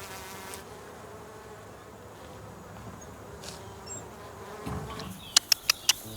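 Soft buzzing of bees around hives hums steadily in the background in a garden at Babylonstoren, South Africa, with a few sharp clicks near the end.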